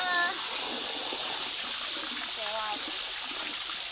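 Fresh water flowing and splashing at an outdoor bathing spot, a steady close rushing wash filling the clip, with brief voices heard over it.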